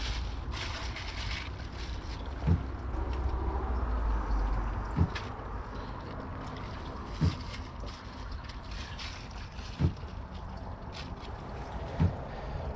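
A 1986 Kohler Wellworth toilet flushes a grocery bag and a microfiber rag, giving a steady, fairly loud wash of rushing, gurgling water with a few sharp knocks spaced through it and no talking.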